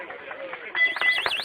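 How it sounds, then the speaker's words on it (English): A warbling electronic alarm starts abruptly partway through, its pitch sweeping up and down rapidly, heard over background chatter. "you will hear the alarm."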